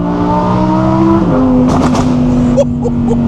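A 2023 Audi R8 GT exhaust revs loudly up close, the engine note climbing and shifting, then sharp popping crackles like gunshots burst out near the end.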